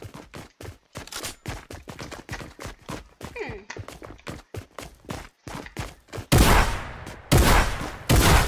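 Rapid bursts of gunfire in a Fortnite cops-and-robbers match: dense clicking shots through the first part, then three loud, broad blasts near the end, close and sharp.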